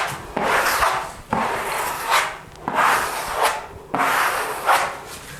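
Wallpaper is pressed and smoothed onto a wall with firm strokes from the middle downward and out to the edges, each sweep a loud, close rubbing rasp, about four in a row.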